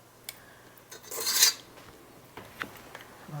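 A number 40 scoop drops brownie mix into a baking pan: a brief metallic scrape and clink of the scoop against the pan, with a few light taps around it, close and quiet, no voices.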